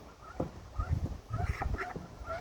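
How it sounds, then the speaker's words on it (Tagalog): Aylesbury or Pekin duckling peeping and calling in short, high chirps, fairly faint, with a few low bumps and handling noises underneath. "Mga Ellsbury duck or Pekin duck."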